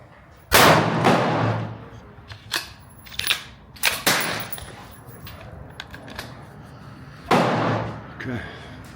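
A Springfield 2020 Waypoint rifle, still being broken in, fires at a 100-yard target. A few loud, sharp cracks stand out, separated by pauses and quieter knocks and handling noises.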